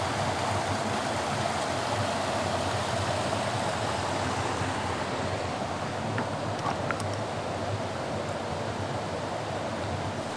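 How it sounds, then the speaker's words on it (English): A waterfall pouring into a swimming hole, a constant broadband roar and rush of water, steady and close with no voices. "You can see here that the waterfall down here"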